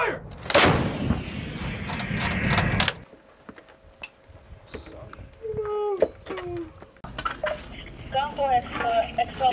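A USMC howitzer fires with a sharp, loud blast and a rumbling roll near the start during an air assault training exercise, followed by metallic clanks, shouted commands and crew chatter.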